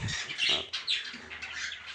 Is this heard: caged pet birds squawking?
yes